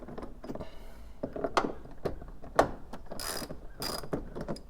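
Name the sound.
ratchet removing 10 millimeter bolts from FJ Cruiser trim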